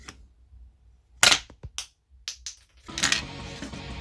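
A Bottleman DX Rifle Guard One toy bottle-cap shooter fires with a sharp, snappy crack, followed by a few softer plastic clicks and a second louder shot near the end, all close and dry.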